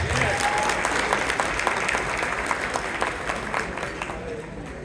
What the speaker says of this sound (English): They should get a resounding applause.